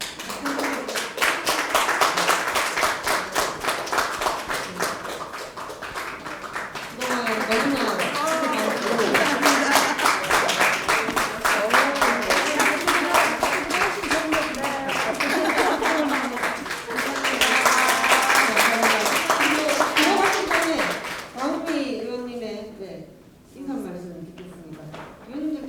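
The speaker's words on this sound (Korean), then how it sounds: "박수" Applause at a political party leadership inauguration ceremony as the interim committee chair and members come forward for gifts; dense, steady clapping from a crowd sustained for most of the time, easing off briefly near the end.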